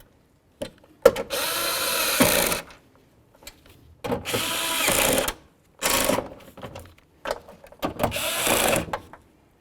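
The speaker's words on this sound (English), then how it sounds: "now that we have all of our bolts started, let's go ahead and snug them up" A power tool snugs up window regulator bolts on a 1997-2005 Lexus GS, in four or five separate whirring bursts with short quiet gaps between them.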